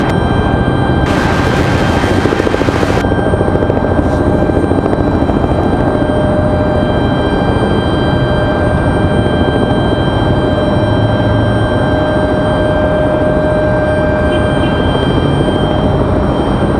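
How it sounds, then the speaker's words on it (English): A helicopter flies near Raleigh-Durham International Airport, a steady loud rotor and engine drone with constant tonal whine holding throughout, with no talk. "Nice looking helicopter."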